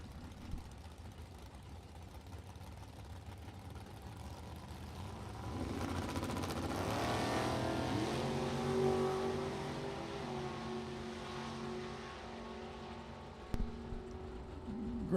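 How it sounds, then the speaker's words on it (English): A 1957 Chevy drag car with a 582 cubic inch engine at a drag strip, its engine roar building loud from mid-clip over steady background engine noise, with a sharp bang near the end. "Beautiful '57 Chevy with that big 582 cubic inches under the hood."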